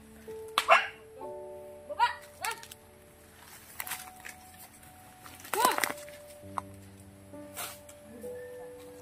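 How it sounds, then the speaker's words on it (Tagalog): A dog barks and yips in short scattered bursts during an outdoor visit at a home, mixed with people talking and background hum. "Nangangagat po yung aso nyo?"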